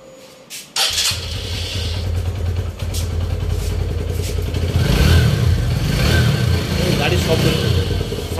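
A used BS6 motorcycle engine cranks and catches after a brief quiet moment, then runs loud and close with a smooth, even drone that swells into revving.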